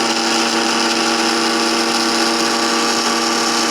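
Mixer grinder whirring loudly as it grinds garlic and ginger into a fine paste, a steady, close, high-pitched motor drone with no break.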